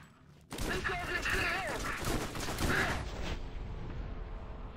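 Special gun firing in Borderlands 1, a sudden onset of rapid, dense shots and crashing impacts, loud for a few seconds then easing into a lingering rumble.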